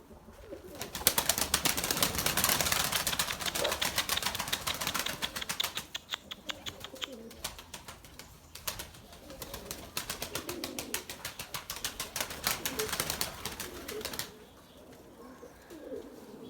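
A flock of white pigeons in a loft, soft cooing mixed with rapid fluttering and clattering wingbeats, busy and fairly close throughout, with a brief quieter stretch before the flapping picks up again.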